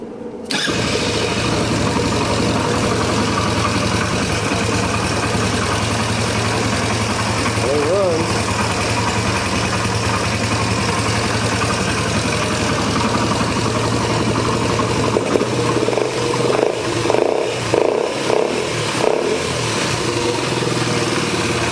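A Yamaha Badger YFM80 ATV engine cranks, catches and settles into a loud, steady idle close by, then revs in several uneven bursts toward the end while a person talks over it.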